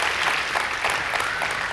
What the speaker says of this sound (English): we can give that a round of applause